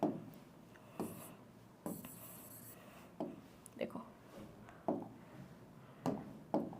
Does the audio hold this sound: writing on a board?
yes